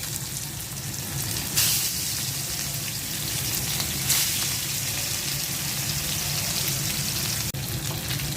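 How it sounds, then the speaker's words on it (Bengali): Rohu fish pieces fry in hot oil with a continuous close sizzle and crackle, punctuated by a few brief louder spatters. "মাছটা ভেজে নেব।"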